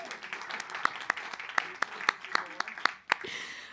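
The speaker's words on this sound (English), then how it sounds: "Please give them a round of applause." An audience claps for a team at a conference gathering, with sharp individual claps standing out over a continuous bed of applause that swells and then fades near the end.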